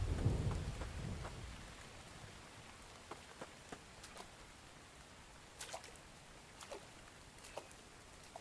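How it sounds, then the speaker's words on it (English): Steady rain falls throughout a stretch of the video game The Infected, a soft continuous hiss with faint rumble early on and scattered louder drips or distant cracks later, with no talking. "I love it when it rains."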